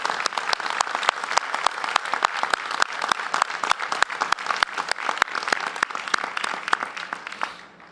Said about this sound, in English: Would all of you join me in a round of applause for everybody who made today happen?